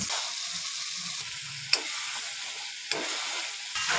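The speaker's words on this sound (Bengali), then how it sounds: "পেঁয়াজ রসুনকে ফ্রাই করে নেওয়া হচ্ছে।" Onion and garlic frying in a pan, a steady soft sizzle with two sharp utensil clicks against the pan, close and alone with no voices.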